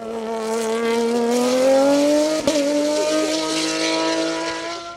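A Norma M20 F 3-litre race car at the Mont-Dore hillclimb screams past close and loud, its engine note climbing steadily with a brief dip midway, then holding high.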